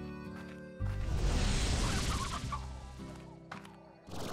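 Chickens in the video game Slime Rancher cluck loudly and close in a dense burst under background music, then the clucking thins out and music continues.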